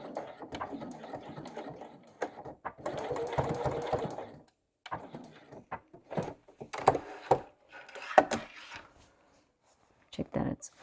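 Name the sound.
sewing machine stitching a bag seam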